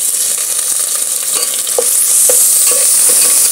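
Ginger paste is stirred and fried in a pan for Bengali-style basanti polao (yellow rice), a loud, close, continuous sizzle broken by several spoon scrapes against the pan, with no talking.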